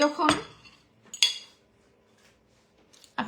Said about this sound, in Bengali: যখন এরকম একটা কাঁটা চামচ দিয়ে এই ডিমটাকে ম্যাশ করবেন